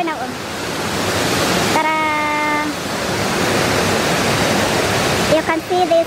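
Water rushes through the intake at Moogerah Dam in Queensland as a loud, steady roar that runs throughout, with a brief voice and a short tonal call heard over it.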